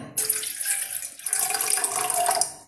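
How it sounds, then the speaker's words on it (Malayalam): Water poured from a cup into a cooking pot while making a Kerala-style banana and carrot dish, a steady rushing splash starting abruptly, briefly easing, then continuing strongly before tapering off. "ഒരു കപ്പ് വെള്ളം ഇതിനൊഴിച്ചു. ഒരു കപ്പ് കൂടെ ഒഴിക്കാം."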